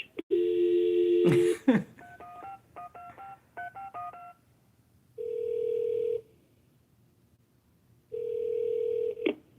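A telephone keypad being dialed: a loud steady tone and a brief clatter, then rapid clusters of two-tone button beeps, followed by two long, even ringing tones separated by a pause, heard up close with no talking.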